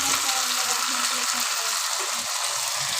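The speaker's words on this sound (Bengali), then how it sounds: "শাকটা ভাজি করে নিচ্ছি।" Kalmi greens (water spinach) frying in a pan, a steady loud sizzle with light stirring scrapes, continuous and close, with no voices.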